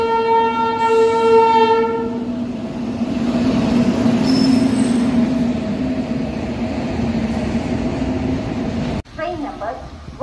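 Konark Express train rumbling loudly along the rails, a long horn blast at the start over a steady roar of wheels with a squealing tone, then an abrupt cut to a quieter scene.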